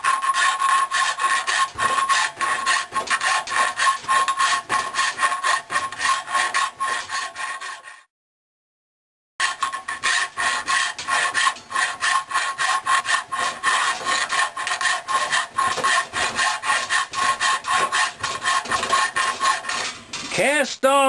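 A coarse hand file scrapes across cast iron on a bandsaw frame in steady, rhythmic back-and-forth strokes, close and harsh, broken by a brief silent gap before the rasping resumes.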